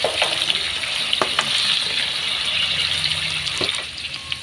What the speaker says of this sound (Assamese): তেলখিনি এটা গৰম হ'ল আৰু জলপাইটো লৰাই আমি এনেকৈ ফ্ৰাই কৰিছো